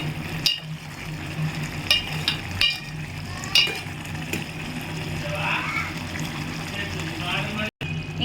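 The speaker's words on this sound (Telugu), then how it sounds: "మంచిగా ఉడుకుతుంది కూర అయితే" Dried fish and cucumber curry simmers in a pan, giving a low steady bubbling and faint sizzle with occasional stirring scrapes, close and moderately quiet throughout.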